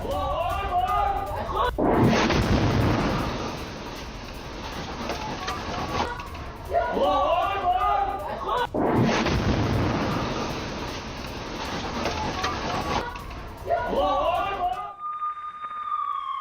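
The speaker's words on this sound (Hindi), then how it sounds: "खान यूनिस में इजराइल की बमबारी शुरू हो गई है।" Israeli bombardment in Khan Younis, southern Gaza, sounds as two long, heavy rumbling blasts of broadband noise, each lasting several seconds, with a voice speaking between and over them.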